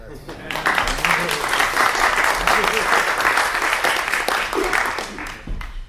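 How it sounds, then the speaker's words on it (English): An audience at a live discussion applauds loudly and steadily for several seconds, a thick roar of clapping with a voice faintly mixed in, dropping off at the very end. "Now you can applaud for that."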